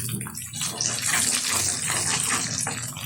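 Cardamom pods and cinnamon sticks frying in hot oil for a chicken curry, a steady close hiss and sputter with a broad bright crackle, continuous and fairly loud.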